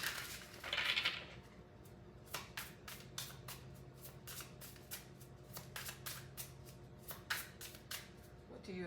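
Tarot cards being shuffled by hand: a run of quick, crisp riffling flutters with short pauses between bursts, close to the mic, with a faint steady hum underneath and a brief voice near the start.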